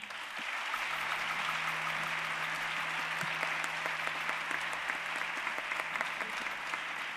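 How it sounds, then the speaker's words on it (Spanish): A theatre audience at a live concert gives a steady, dense round of applause for the sound crew, fairly distant and even, with a faint sustained tone beneath. "Un fuerte aplauso para ellos."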